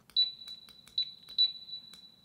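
Short, faint electronic beeps from a camera, sampled for a song, come as a few high, thin chirps spaced irregularly over quiet background.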